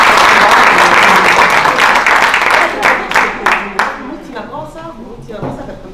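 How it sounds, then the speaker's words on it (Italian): Loud, close audience applause at an Italian book presentation, full and dense at first, then thinning into scattered claps that fade out, with faint murmuring voices at the tail. "Quindi doppio applauso"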